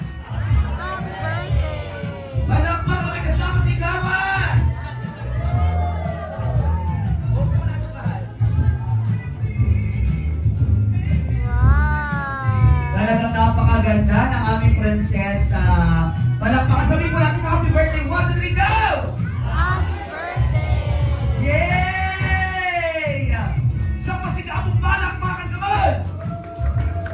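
Audience clapping and cheering at an 18th birthday celebration, a steady crowd roar with whoops mixed under an MC's loud amplified voice and music throughout.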